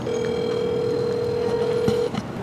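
A phone call being placed, with a steady dial tone holding for about two seconds before cutting off, followed by a faint hint of ringing; no voices are heard.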